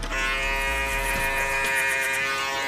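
Electric shaver buzzing steadily while cutting a man's hair for a fade, a close, continuous hum with a strong even tone and no talking.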